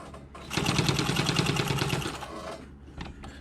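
A sewing machine back-tacks the first stitch on a dress shirt cuff, giving a close, fast mechanical whir for about a second and a half before stopping, followed by faint handling noises.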